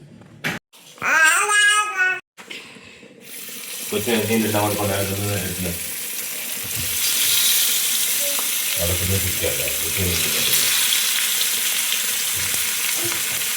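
Sardines cook in a covered pan with a loud, steady sizzle and bubbling that fills the whole stretch. Voices speak briefly at the start and again midway.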